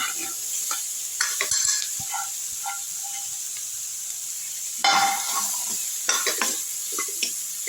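Boiled potatoes tossed and stirred in a hot pan for pani puri masala, over low heat with fenugreek leaves, giving a steady soft sizzle with scraping spoon strokes that come in bursts, close and moderate in level.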